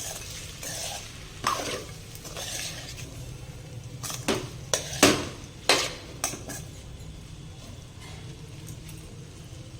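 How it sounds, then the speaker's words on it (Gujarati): Sabudana khichdi with coarsely crushed peanuts is stirred in a pan, producing a series of scraping, clattering strokes of a spoon against metal, moderately loud over a faint background sizzle. "સારી રીતે આપણે તેને મિક્સ કરી લઈશું."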